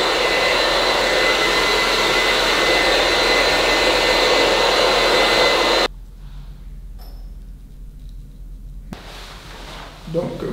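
Hair dryer blowing loud and steady at a barbershop while drying a client's short faded hair, running for about six seconds then cutting off, leaving a quiet room with faint handling noises.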